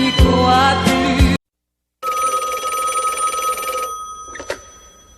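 A telephone bell rings loudly in two bursts separated by a short silence, the second ring steadier and fading out before a brief clack.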